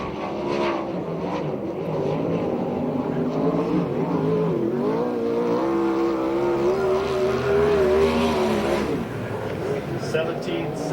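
A USAC sprint car roars around Perris Auto Speedway on a qualifying lap, its engine note a sustained loud drone rising and falling in pitch as it passes, with an announcer talking over it.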